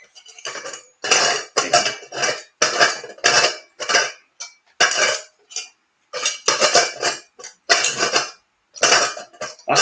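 A handmade brass oil burner being unscrewed from an oil lamp, loud close metallic grinding and scraping in repeated bursts with short pauses as the coarse thread turns, no talk.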